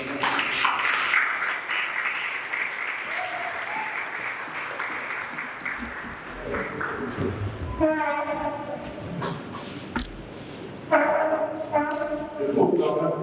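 Audience applause at a Cameroonian opening ceremony for a culture and innovation event, sustained crowd clapping under an amplified voice, with horn-like tones and talk breaking through in the latter half.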